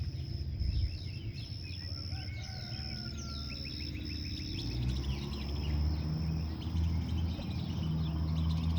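Birds chirp and call on a Texas morning along a brick road, light scattered calls over a steady low rumble of distant traffic.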